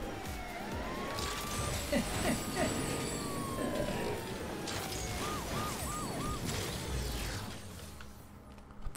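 Police car siren in the video game Agents of Mayhem, a wailing tone rising and falling mid-clip and then quick yelps, sitting under game noise, engine rumble and action sounds.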